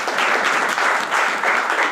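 A crowd applauding at a business plan presentation, with loud, sustained clapping from many hands that swells slightly in waves across the short stretch, with no voices over it.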